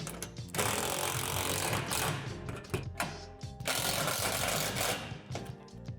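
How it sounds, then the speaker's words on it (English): Hardware on a Lifetime Adventure Tower Deluxe swing set is tightened, giving a loud, close, grinding mechanical rattle in two long bursts separated by brief pauses. "Now go ahead and tighten all the hardware."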